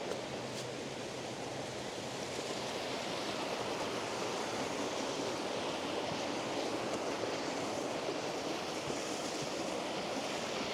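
A waterfall in Glenariff Forest Park sends up a steady, unbroken broadband roar that holds even from start to finish, with no voices over it.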